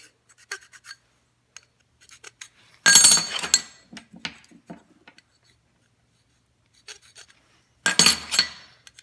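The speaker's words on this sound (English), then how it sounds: "You don't have to scrape it very hard, just enough to make a mark." A marking tool scraped lightly across a workpiece while building a bandsaw roller stand, heard as short bursts of scratchy rasping separated by quiet gaps and small taps.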